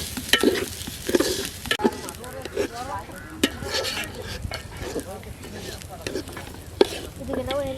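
Rice and lentils fried and stirred together in a pan for winter khichuri, with steady sizzling under repeated scraping stirs; a voice talks faintly alongside.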